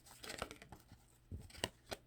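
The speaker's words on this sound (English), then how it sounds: "I just make sure I shuffle it really good" Tarot cards are shuffled by hand in quick papery riffles and slaps, a burst of rustling followed by a few sharper snaps, close and fairly quiet.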